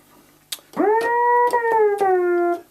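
A Korg Mini-Korg 700 synthesizer tone slides smoothly up into a held note with portamento, wavers, then glides back down, with a few sharp clicks around it.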